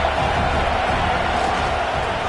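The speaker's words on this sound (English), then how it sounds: "this crowd is turning it up a notch" Loud, dense roar of a football stadium crowd cheering as a play begins, a continuous wall of noise from many voices with no breaks.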